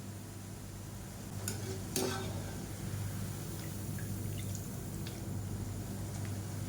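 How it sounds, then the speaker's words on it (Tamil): Kara sev frying in hot oil, broken up with a ladle: a steady, close sizzle with a few sharp scraping knocks of the ladle early on, then continuous crackling. "இப்போ இதை வந்து கரண்டியை வச்சு உடச்சி விட்டுக்கலாம்"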